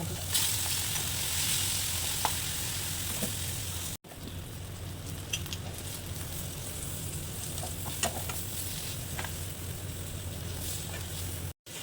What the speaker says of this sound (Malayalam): മീനൊക്കെ വറുത്ത് കഴിഞ്ഞ് ഇനി ഒരു കുറച്ച് ചെമ്മീൻ കൂടി വറുത്താക്കും